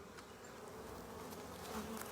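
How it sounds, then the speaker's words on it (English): Honey bees buzz steadily in an opened beehive, a soft, continuous drone close by with faint rising whines as individual bees pass, no voices over it. "There's some bees on there hanging out."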